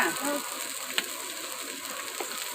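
Pomfret fish sizzles in hot oil, a close, steady crackling hiss with small pops throughout.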